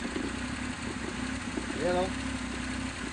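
A Suzuki F6A engine idles steadily at close range, its low mid-range hum continuous under a man's brief speech.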